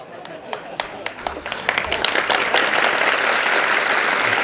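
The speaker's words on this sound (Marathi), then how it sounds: "ह्याला म्हणते टाळ्या वाजून" A live audience bursts into applause during a Marathi public speech, scattered claps at first building quickly into loud, dense, sustained clapping that fills the hall.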